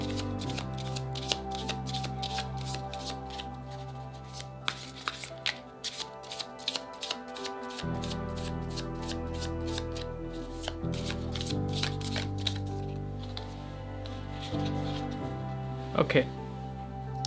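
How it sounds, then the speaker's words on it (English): Playing cards are shuffled over and over, a steady riffling and rapid crisp flicks that carry on for a long stretch with little else around. "As soon as we're done shuffling here"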